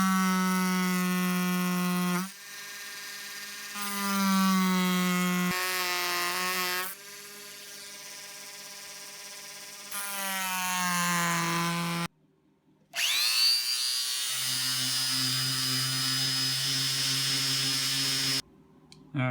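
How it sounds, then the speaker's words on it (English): A power chisel carving wood for a Star Trek-themed cell phone stand, giving loud sustained buzzing runs with strong harmonic whine, broken by short pauses and a changed pitch near the end; no talk. "So I think it's time to get the power chisel back out"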